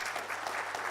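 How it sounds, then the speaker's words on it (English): A lecture-hall audience at an annual lecture claps steadily for the event's facilitator, a dense, even patter of many hands filling the whole moment at moderate volume. "Okay, a round of applause to our very able facilitator."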